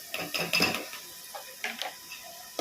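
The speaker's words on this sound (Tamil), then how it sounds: "கட் பண்ண தக்காளி இதில் போட்டுப்போம்." Cut tomatoes tipped into a cooking pan for a fish curry, a few close clatters and metal clinks of utensil against pan with faint sizzling between them.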